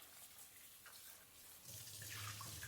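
Cold water runs from a kitchen tap as cleaned chile pods are rinsed, a soft steady hiss that swells and grows fuller toward the end.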